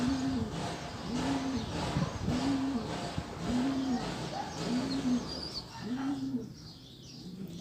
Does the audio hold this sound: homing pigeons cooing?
yes